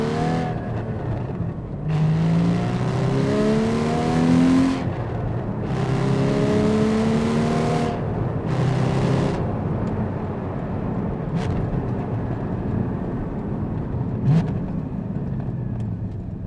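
A Porsche 981 GT4 engine pulls hard on a test drive, its pitch climbing through several rising revs broken by brief drops at gear changes, then settling to a steady cruise, loud and close.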